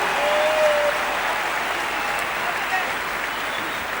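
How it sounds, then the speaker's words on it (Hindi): An audience claps loudly in a steady, dense wash of applause to welcome speakers to the stage at an event in Kolkata, holding an even level throughout. "आप जोरदार तालियों से इनको स्वागत कीजिए।"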